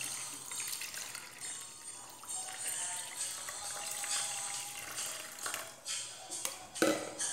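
Half a liter of water is poured into a pot with a splashing, trickling flow of liquid for several seconds in a kitchen, ending in a few louder splashes.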